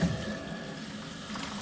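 Tap water runs steadily from a sink faucet during a tankless propane water heater installation test, a brief, even rushing hiss with no talking.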